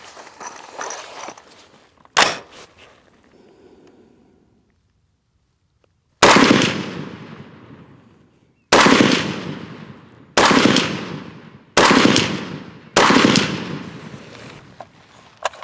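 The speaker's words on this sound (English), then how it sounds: "This is 147 grain. We'll try shooting a group with that." A PSA Sabre AR-10 rifle fires PMC Bronze 147-grain rounds outdoors at a range: six loud, sharp shots with long reverberant tails, the first alone, then a pause before five more at uneven intervals of a second or two.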